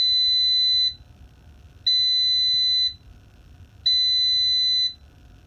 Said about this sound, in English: So it'll beep a couple times.